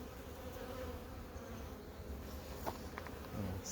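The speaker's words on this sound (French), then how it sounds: "C'est toujours été un essaim très dynamique ça." A honeybee swarm hums at its hive, a soft, continuous insect buzz that stays faint and even, with a few brief closer wingbeats passing by.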